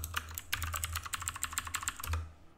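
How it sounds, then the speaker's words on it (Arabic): Rapid close clicking of keys on a computer keyboard, a quick burst of typing with short uneven pauses, no voices present. "كتبت ادمن الان"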